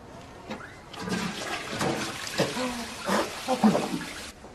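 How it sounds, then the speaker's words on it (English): A school toilet flushes with a roaring rush of water that swells and churns, mixed with scuffling and muffled voices nearby. "Flush it then."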